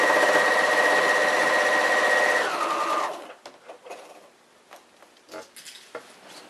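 A sewing machine quilts through a layered quilt assembly, running fast and steadily for about three seconds before stopping, followed by a few light clicks and handling sounds up close.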